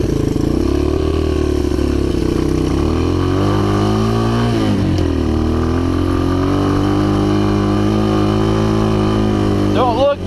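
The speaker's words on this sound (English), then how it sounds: "The idle's not set, so I gotta keep bleeping the throttle." A Honda XR 200 motorcycle with its idle not set, its throttle blipped to keep it running: a loud, close engine whose pitch rises and falls in steady revving swells for about ten seconds.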